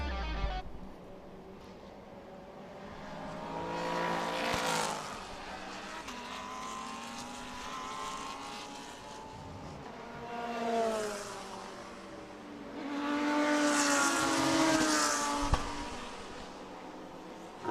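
GT3 race cars at a Thailand Supercar race, 2021, pass and rev at a distance in several swelling, rising engine surges separated by quieter lulls, with a faint background hum and no talk.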